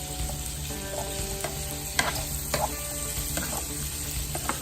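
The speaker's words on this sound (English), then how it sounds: "The sausages are starting to brown, very good sign." Sausages and peppers fry in a pan with a constant close sizzle, and a few scattered scrapes and knocks come from stirring.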